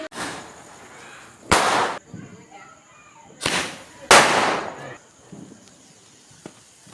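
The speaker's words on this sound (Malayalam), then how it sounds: "അതിൽ മെയിനായിട്ടുള്ള ഈ 2 സ്കൈ ഷോട്ടാണ് കേട്ടോ." Sky shot fireworks at a Vishu celebration go off in a few sharp, loud outdoor bangs, each with a brief crackling tail, separated by quieter background noise.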